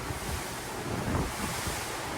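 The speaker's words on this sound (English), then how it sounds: "It's kind of windy." Strong wind buffets an open cruise ship deck on the Disney Fantasy, a steady broadband roar with ocean surf rushing beneath it, loud and continuous throughout with no voices.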